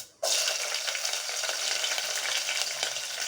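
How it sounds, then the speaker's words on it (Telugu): Peanuts, cashews and green chillies fry in hot oil for wheat semolina upma, bursting into a loud, continuous crackling sizzle after a brief quiet start and holding steady close up. "ఈ మొత్తం కూడా మంచిగా ఫ్రై అయిపోయిన తర్వాత ఇందులో పచ్చిమిర్చి వేసుకోవాలి"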